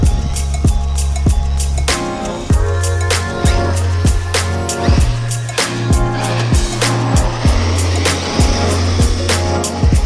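A large Traxxas X-Maxx 8S or Kyosho GT2 VE 6S RC car drifts on an indoor surface, electric motor whining in repeated bursts with sharp clattering knocks and thumps as the truck slides and bounces.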